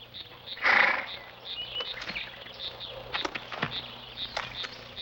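Cartoon horse gives a loud whinnying neigh near the start, followed by softer snorts and clip-clopping sounds against a quiet background.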